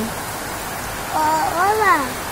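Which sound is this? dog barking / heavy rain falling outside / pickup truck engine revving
heavy rain falling outside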